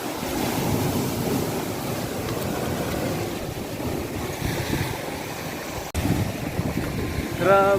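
Typhoon-driven waves surge and wash against a shore near boats and houses where there is no breakwater. A steady rushing roar is mixed with wind buffeting, and a voice speaks faintly beneath it.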